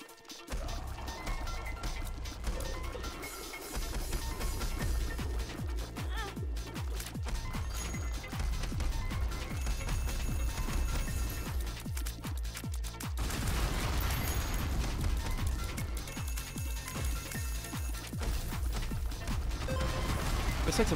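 The Binding of Isaac: Repentance explosions and rapid gunfire crash continuously over a loud, dense soundtrack, with booming impacts throughout.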